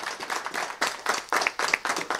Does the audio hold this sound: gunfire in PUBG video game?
no